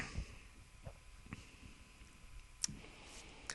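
Sparse computer mouse clicks, a few sharp, quiet taps spread irregularly across a hushed room with light background hiss.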